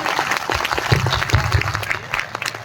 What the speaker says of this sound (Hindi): आप तालियों के साथ बताइए, यह स्वीकार्य नहीं